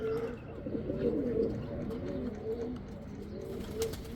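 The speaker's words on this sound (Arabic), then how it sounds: "شوف هاي الطيور" Soft, repeated cooing of pigeons close by, low and throaty, continuing through the clip with faint chirps and background rustle.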